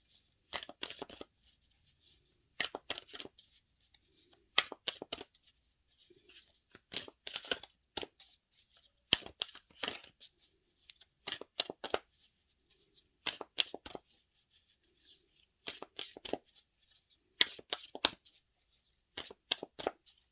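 Tarot cards are shuffled in a series of short, soft bursts of papery riffling, each separated by a pause of quiet, repeating steadily over about twenty seconds without any talking.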